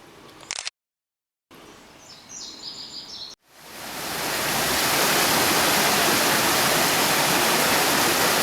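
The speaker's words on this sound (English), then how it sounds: "Looks like it still has some water coming through here." Creek water near Otter Creek Campground in Airville, Pennsylvania rushes steadily as a loud, broad, continuous flow that swells up after a brief silent gap and some quieter earlier rustling.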